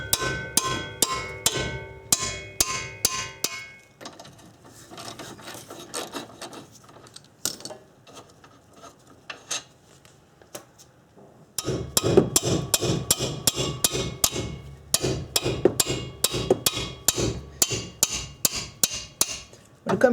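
A heavy 3-pound hammer strikes a wrench to knock differential bolts loose, delivering rapid bursts of sharp metallic blows with a quieter pause in the middle and no talking.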